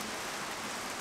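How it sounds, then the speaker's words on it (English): Steady, dense rain falling at night on a sailboat at sea between Coffs Harbour and the Gold Coast, a continuous close hiss with no pauses. "the rain was supposed to be at its heaviest between 6 and 7, so that's about now"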